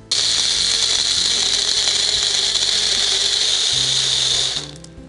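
A kitchen blender grinds ice with strawberries for juice, a loud steady high-pitched whir running for about four and a half seconds before spinning down.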